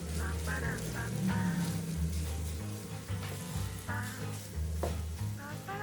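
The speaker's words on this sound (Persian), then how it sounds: "سعی کنین آروم همش بزنین تا هویجا خورد نشن." Chicken and carrots sizzle steadily in a pan while a utensil stirs and scrapes through them in irregular strokes, close by and moderately loud.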